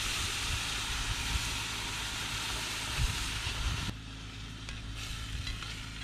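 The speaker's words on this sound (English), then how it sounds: "Give that a bit of a stir around," Chilli crab sauce sizzles hard in a pan over a high flame while being stirred, a loud, dense continuous hiss with scraping knocks, easing slightly partway through.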